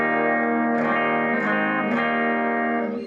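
An electric guitar, tuned down, plays a clean tone through an amp: a few full chords strummed about every half second, ringing and sustaining loudly with no voices.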